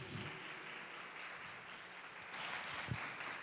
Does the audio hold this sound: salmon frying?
no